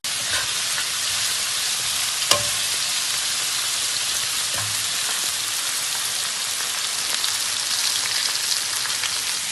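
Sliced onions with ginger and salt fry in a pan, a dense, even sizzle holding steady throughout, with one brief sharp click partway through.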